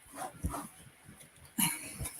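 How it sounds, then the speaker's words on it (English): Belle, a pet dog, gives a few quiet, scattered barks and yips in a room, with a sharper burst near the end and soft background noise between them. "I don't have a cat. I got a dog."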